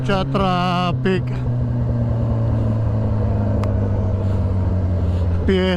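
Congested road traffic during a town fiesta: a constant engine rumble of cars and motorcycles, with a nearby motorcycle revving up at the start and again at the end.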